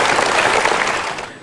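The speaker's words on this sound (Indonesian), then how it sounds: "Kita berikan tepuk tangan untuk dua orang ini." Dense applause from a studio audience at a Metro TV talk show, greeting two people invited onto the stage; steady, fairly loud clapping that trails off slightly at the end.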